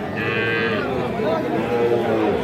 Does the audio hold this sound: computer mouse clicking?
no